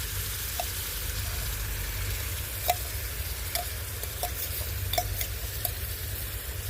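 Ground masala paste cooks into a frying crab curry with a close, steady sizzle and occasional scraping clicks of a spoon stirring the pan; no one speaks.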